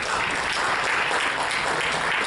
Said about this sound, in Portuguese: E uma salva de palmas para ele também.